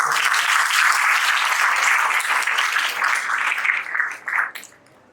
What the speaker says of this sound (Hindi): ताली तो बजाती है।